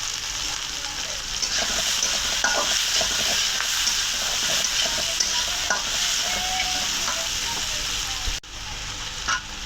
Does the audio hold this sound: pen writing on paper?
no